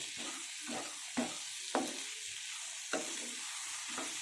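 Boiled cowpeas being stirred into a sizzling curry in a pan: a steady frying hiss with a series of soft scraping, stirring strokes at irregular intervals, close and fairly quiet, no voices.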